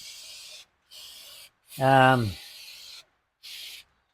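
Several short bursts of Bendix brake cleaner hissing from a can onto Nissan N15 rear brakes, four or five quick puffs with a brief low rubbing or scraping sound in between.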